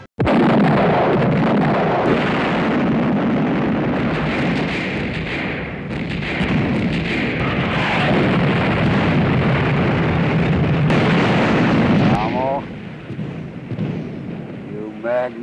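Artillery guns in the 1970 Patton film trailer fire in heavy, booming, rumbling blasts that roll on continuously for about twelve seconds before fading, with music or voices faintly mixed in.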